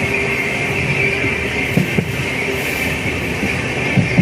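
Passenger train rolling into Villupuram station on the second platform, a steady loud rumble with a sustained hum and a few sharp clanks of the wheels and couplings near the end.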